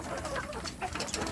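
Free-range village chickens clucking in a farm setting, several birds giving short, overlapping clucks and calls at close to moderate distance over a steady background, with no speech.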